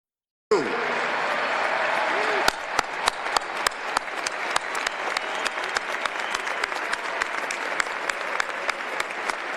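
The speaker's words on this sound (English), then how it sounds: "Students, stand up. We want to applaud you." An audience at a speech applauds standing students. A steady, close wash of clapping swells in, then sharper individual claps begin cracking out over it in an uneven, rapid rhythm until the end.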